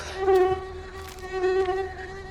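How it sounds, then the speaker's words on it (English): Steady, high-pitched whine of mosquitoes buzzing close by in a forest, with a constant harmonic drone that swells and fades slightly as the insects drift near, no talking. "Mosquitoes."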